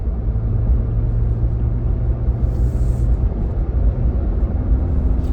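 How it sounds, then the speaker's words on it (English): A 2021 Jeep Wrangler Sahara Unlimited takes a corner, heard from inside the cabin as a loud steady low engine and road rumble with a slight pitch shift as the speed changes. "let's see what this Jeep Wrangler really got. Okay, going around the corner."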